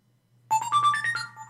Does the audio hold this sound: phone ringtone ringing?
yes